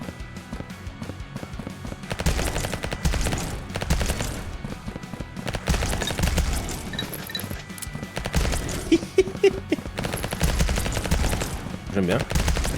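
Bursts of rapid gunfire from revolvers and a submachine gun in the game Vampire Hunters crackle over a busy game soundtrack, with repeated shots and loud impacts coming in waves.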